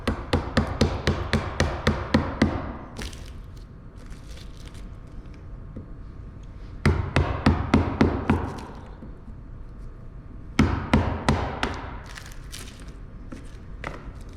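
A chisel hammered into walnut and black epoxy wood gives bursts of rapid sharp close taps in three runs, with quieter gaps between the bursts.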